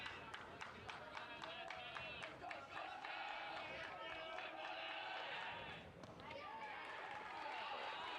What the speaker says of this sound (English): You can hear the crowd for both teams getting into it.